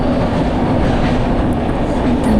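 Train coaches rumble over a bridge on the Visakhapatnam to Araku line, a steady loud rolling roar with dense wheel noise close by, no voices.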